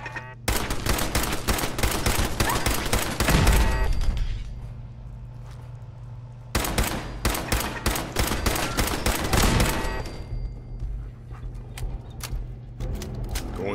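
Gunfire in the Fallout 4 video game, two long bursts of rapid, loud, evenly spaced shots separated by a short lull, each burst lasting a few seconds over a low background hum.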